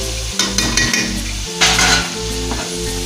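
Nuts fry in oil in a pan as they are stirred, a steady close sizzle with scraping and light clinks of the utensil against the pan.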